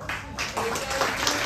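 An audience at a gathering on a Nashik trip to an old-age home bursts into brief, loud, dense clapping close by, with voices mixed in.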